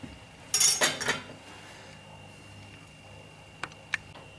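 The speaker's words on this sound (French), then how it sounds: "Donc on a terminé l'éminçage des poireaux." A knife slicing leek on a cutting board: a quick cluster of crisp chopping clicks near the start, then quiet with two faint taps later, no talk.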